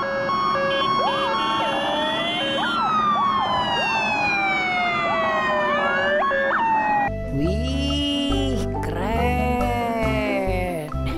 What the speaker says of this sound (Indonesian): yang ini namanya mobil ambulan teman-teman